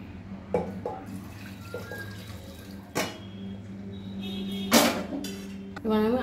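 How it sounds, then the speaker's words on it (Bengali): Hot water being poured into a pressure cooker holding cooked mutton gives light splashing and dripping over a low background hum, with a louder pour near the end. "এবার আমি কড়াতে একটু গরম জল করে কুকারটায় দিয়ে দেব।"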